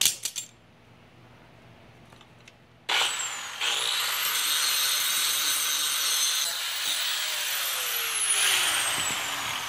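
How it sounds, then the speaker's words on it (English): A metal ball mount for a riding mower is ground down with a power grinder, starting after a few faint clicks and then running as a loud, steady, continuous whine close by, with no talk. "I'm going to take this off and grind it down a little bit"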